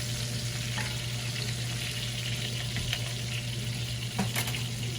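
Steak sizzling in a pan, a steady close crackle and hiss that continues evenly without talking.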